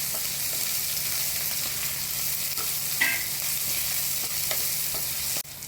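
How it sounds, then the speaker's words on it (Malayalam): Small shallots and coconut sizzling in hot oil with lentils and fenugreek seeds in a pan, a steady frying hiss broken by occasional spoon stirs and scrapes. "ചെറിയ ഉള്ളി ഇട്ട് മൂപ്പിക്കാം."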